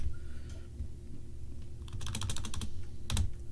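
Close computer keyboard typing as a Linux terminal command is entered: a quick run of key clicks, a short pause, then a final sharp keystroke like Enter, over a faint background hum.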